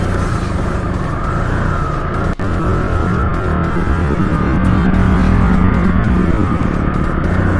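A Yamaha R15 motorcycle engine runs loud and close with a steady, buzzing drone, holding an even throttle throughout with a brief click partway through.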